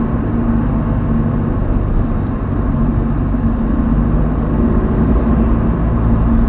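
A loud, steady Toyota GT86 engine roar drones on continuously as it accelerates, close and powerful, with no voices over it.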